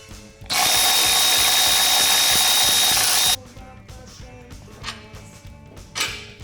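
A power tool, likely an impact driver or drill, spins out the bolts on a top mount in one long loud whirring burst of about three seconds, followed by quieter clicks and clatter of parts.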